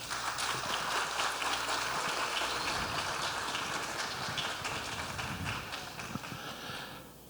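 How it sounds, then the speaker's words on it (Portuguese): Sustained applause from an audience at the opening of an education workshop in a legislative school hall, honoring a speaker and fading toward the end. "uma salva de palmas para ele"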